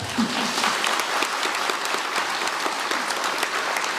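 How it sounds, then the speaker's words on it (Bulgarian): Loud, dense audience applause fills a theatre after a performance of the comedy "Под чехъл" by Stefan Savov, a steady roar of many hands clapping at once, close and sustained throughout. "бурни аплодисменти, моля"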